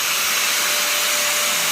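A Mirka Deos Delta 3.0 dustless sander runs with a steady, loud whirring hiss and a faint whine, working at close range over filled surfaces with no voices over it.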